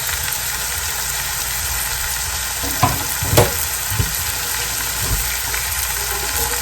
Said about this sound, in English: Let me put some more sear on that side there